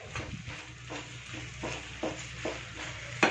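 Okra being sautéed in a pan for kara kuzhambu, a soft low sizzle broken by repeated rhythmic stirring scrapes, close and fairly quiet.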